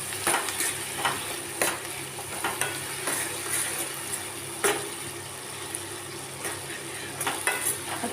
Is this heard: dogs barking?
no